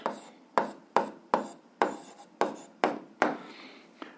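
Pen writing on paper during an algebra exercise, a series of about ten short crisp scratchy strokes close up, evenly spaced and quiet, with no speech.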